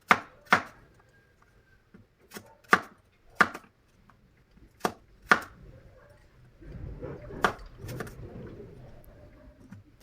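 Apples are chopped into small pieces on a board with a knife, giving sharp, separate knocks at an uneven pace, close by, with faint bird cooing in the background and a soft rustle near the end.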